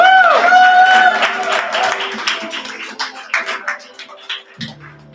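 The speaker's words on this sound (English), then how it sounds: "Clap now!" Audience clapping at an open mic comedy night, a burst of applause fading into scattered claps, with a sustained tone and voices mixed in at the start.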